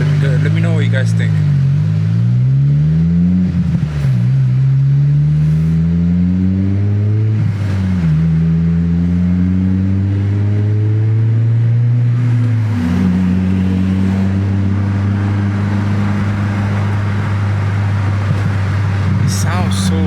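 A throaty exhaust from a 2006-2011 Honda Civic Si with a K-Tuned turned-down muffler drones loudly as the car accelerates, pitch climbing and falling with repeated gear changes, continuous and close.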